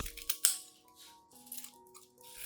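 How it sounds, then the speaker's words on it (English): Scissors snip through dry onion skins, cutting them into thin pieces with a few quick, crisp cuts close by in a quiet room, backed by soft background music. "Using clean scissors or a knife, cut the onion skins into thin pieces and place them into the cup."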